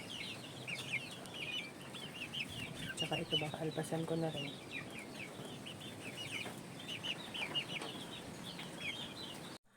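Young chickens, cockerels and pullets in a multipurpose pen at a gamefowl farm, cheep and cluck in a busy, overlapping chorus, with someone speaking briefly partway through.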